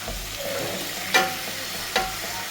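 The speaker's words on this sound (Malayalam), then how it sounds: "അപ്പോൾ നമ്മളെ ഇഞ്ചി വെളുത്തുള്ളിയൊക്കെ ഒന്ന് മൂത്ത് വന്നിട്ടുണ്ട്. അപ്പോൾ നമ്മൾ തക്കാളി ഇടാം." Tomatoes go into a pan of fried ginger, garlic and curry leaves, giving a steady close sizzle with two sharp scraping stirs of a spoon against the pan.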